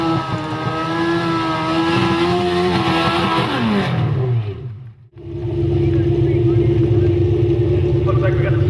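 A diesel tractor engine at a tractor pull, loud and near, holds a steady rumbling drone, dips briefly to near silence and then swells back into a strong, sustained roar.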